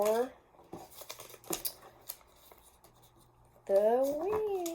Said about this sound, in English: And I'm going to fold this part down